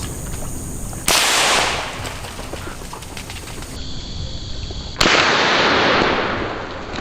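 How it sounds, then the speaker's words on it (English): Two loud rifle shots ring out during a wild boar hunt in Texas, the first about a second in and the second near the five-second mark, each a sharp blast with a lingering outdoor decay over steady background noise. "The moment targets appear, a precise shot drops one."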